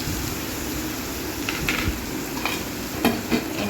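Onions, green chillies and tomatoes for a dried prawn curry sizzle in a pan, a constant fry hiss with scattered scraping knocks as a spoon stirs through them.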